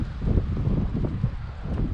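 Gusty wind buffets the microphone on a Florida lake, a steady low rumble of blustery noise with no talk.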